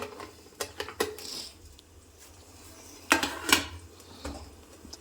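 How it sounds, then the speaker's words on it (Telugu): A metal spice tin in a home kitchen has its lid pressed shut during Telugu-style tempering prep: a few sharp metallic clicks and clinks, spaced out, with a louder double clack near the end, close by and otherwise quiet. "ఈ డబ్బాకి మూత పెట్టేసి"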